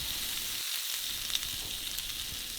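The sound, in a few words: beef tenderloin searing in oiled frying pan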